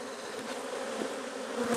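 Honeybees buzzing over an open beehive during an inspection, a close, steady humming drone with a few louder swells as individual bees pass near, with no voices.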